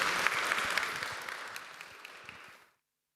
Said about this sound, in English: If we can get a round of applause for the panelists.